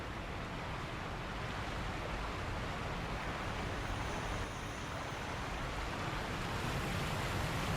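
Steady water and breaking waves in the video game Sekiro, a continuous broadband wash of surf that stays loud and even throughout with no voices.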